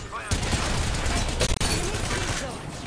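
Rapid gunfire in the video game Apex Legends: dense, sustained bursts of shots crackling loudly and almost without pause through the whole stretch, with only a brief dip midway.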